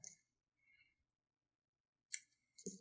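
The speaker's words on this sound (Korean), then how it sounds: "사과씨는 요 좀 적당한 길이로 실을 우선 잘라주세요." Scissors snip through crochet yarn in a quiet room, a couple of soft, short clicks and cuts separated by silence.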